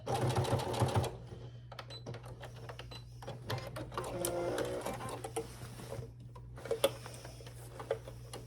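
Sewing machine backstitching the seam of a summer tote bag, a steady close mechanical whir with a rapid stitching patter and short pauses, no talk.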